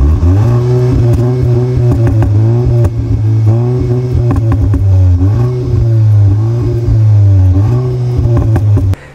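Artificial engine sound played through the cabin speakers of a Cupra Formentor 310 hp TSI DSG7 4Drive, imitating a V8: a loud, close, sustained synthetic drone that rises and dips repeatedly as if revving, heard alone without talk.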